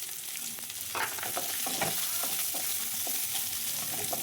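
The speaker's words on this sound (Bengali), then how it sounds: "আগে রসুনটা দিয়ে একটু নেড়ে ছেড়ে তারপরে পেঁয়াজটা দেবো, দিয়ে এটাকে ভেজে নেব।" Garlic and then onion frying in a pan for a Bengali bean ghonto, with a steady close hiss and sizzle broken by scattered scrapes and clicks of stirring.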